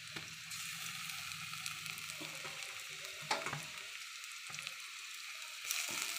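Spice paste with whole cumin frying among reddened onions in a pan for an aloo chicken curry, a steady close sizzle with occasional stirring scrapes and no talk.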